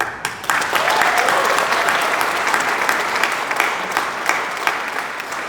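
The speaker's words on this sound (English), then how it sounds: "Please give them a big round of applause for their tireless efforts" Audience at a downtown association town hall meeting claps steadily in a dense, sustained round of applause with sharp individual claps, no speech over it.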